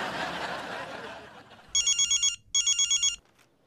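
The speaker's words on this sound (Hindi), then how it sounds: "अरे लल्ला दमान जी का फोन है, जब बात कर ले।" A telephone bell rings in two short bursts of rapid trilling, loud and close, after a stretch of indoor ambience with faint laughter at the start.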